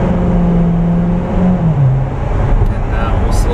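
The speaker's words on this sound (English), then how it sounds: "So, got that great exhaust." A 2014 Corvette Z51 3LT rumbles loudly from inside the cabin while driving, a steady low exhaust drone with a brief rising rev, and a voice talks over it.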